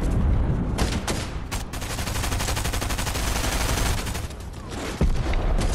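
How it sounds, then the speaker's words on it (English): Rapid automatic gunfire in Fortnite crackles in dense bursts and sustained volleys for several seconds, with a few sharper single cracks standing out, loud and close. "Somebody over here is firing bullets."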